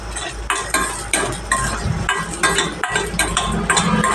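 Peanuts and chana dal being stirred and roasted in a steel kadai on low to medium heat, with repeated scraping strokes of a spoon and a soft dry sizzle, close up and steady, with no voices.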